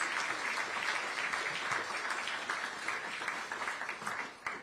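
Sustained applause from a crowd at a regional economic alliance launch event, a dense wash of clapping that stays steady throughout and tapers slightly at the end.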